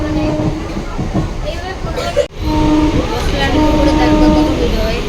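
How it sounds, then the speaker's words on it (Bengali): Commuter train heard from inside a passenger carriage at night, a steady loud rumble and rattle of wheels on track with a short dip partway, people talking over it. "ট্রেনের মধ্যে বসে আছি"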